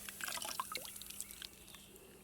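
Muriatic acid fizzes and bubbles on a seashell, a faint, close crackle of tiny pops and drips that thins out over two seconds.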